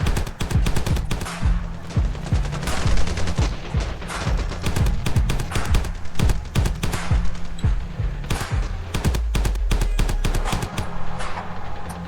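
Dense gunfire in the Ravenfield video game: rapid automatic bursts and single shots crack continuously and loudly, with deep booming impacts mixed in and no speech.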